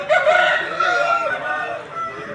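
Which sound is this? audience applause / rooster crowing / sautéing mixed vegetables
rooster crowing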